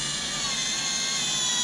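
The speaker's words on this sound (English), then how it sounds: "Instead of an impact, I like to use an actual drill for this step." A power drill whines steadily and loudly, driving screws into the handle of a Farmertec G660 chainsaw build, running continuously without pause or talk.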